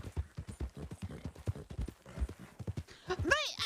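A horse in a video game trots along with a steady, close clip-clop of hooves while someone talks over it, and a brief whinny rises near the end.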